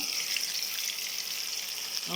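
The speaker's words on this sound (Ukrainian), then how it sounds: "Зараз будемо смажити карпа і оцією лопаточкою" Steady, bright crackling sizzle of carp frying in hot oil in a pan, continuous and close, with no talking.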